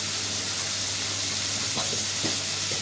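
Tomatoes and coriander frying in a pan for masala gravy give a steady, close, hissing sizzle with a few faint stirring scrapes, and no talk.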